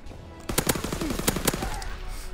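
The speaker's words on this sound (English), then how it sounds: "the gun is pretty accurate and it shoots pretty fast as well" An M38 submachine gun fires in Call of Duty WW2 multiplayer: several quick bursts of rapid automatic shots, loud and close, with no talk.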